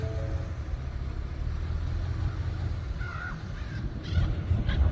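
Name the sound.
crows cawing at a dump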